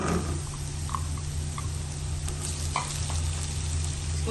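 Chopped ginger and garlic frying in oil for a baingan bharta, a steady dense sizzle that runs without pause, with a few faint pops and clicks scattered through it.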